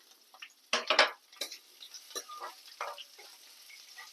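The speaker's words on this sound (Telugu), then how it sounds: "నెయ్యి కూడా ఇప్పుడే పోసేసుకుంటున్నాను." Ghee poured into a hot pan while making coriander rice, sizzling in several sharp bursts with clinks of a spoon or utensil against the pan, close and fairly loud, with no one talking.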